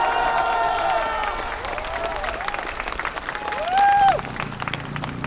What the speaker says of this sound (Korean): 여러분 동의하시면 큰 박수 보내주시기 바랍니다